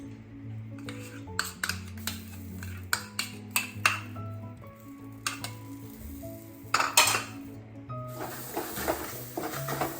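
Ground roasted-gram paste being scraped and moved into a vessel, with repeated clinks and knocks of a spoon against metal pots in an irregular sequence, fairly close and with no speech.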